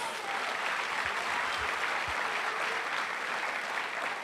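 Steady, dense applause from an audience at a church service fills the whole stretch with an even wash of clapping, a few low thumps underneath, fairly distant and soft.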